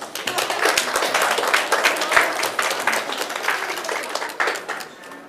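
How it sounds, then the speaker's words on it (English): An audience at a middle school community dialogue night gives a round of applause, loud, close, distinct hand claps forming a lively ragged patter that thins out near the end. "we would like to give you a big round of applause"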